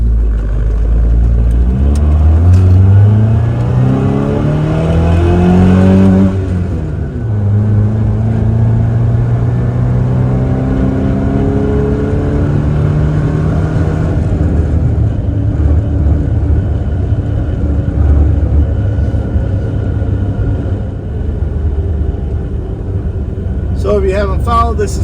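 A car fitted with an HPS intake pipe drives in third gear at about 35 mph and a couple thousand RPM, its engine droning and rising in pitch, then settling into a steady hum, with someone talking throughout.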